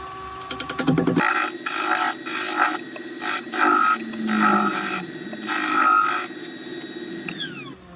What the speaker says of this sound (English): we're back on the lathe